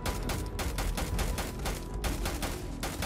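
Rapid automatic gunfire in the video game Starfield rattles in a fast, even burst of shots that runs almost unbroken, loud and close, with only a brief gap before the firing resumes.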